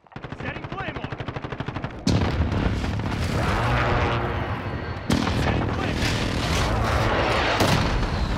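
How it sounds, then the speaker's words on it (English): Rapid, loud automatic gunfire from an MP5 rattles for two seconds, then heavy booming explosions from an enemy precision airstrike roar and rumble continuously in a Call of Duty Modern Warfare 2019 multiplayer match, with a second blast hitting around the five-second mark. "Enemy precision airstrike."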